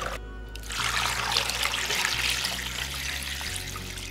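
Tap water runs steadily into a container of frozen beef bones set to soak for Korean bone broth, a close, continuous splashing trickle with a low hum beneath and no talking.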